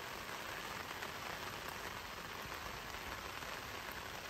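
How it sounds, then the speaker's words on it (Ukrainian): Heavy rain pours down steadily at a riverside fishing spot, a dense even hiss of drops striking a surface, with no letup. "Дощ не стихає."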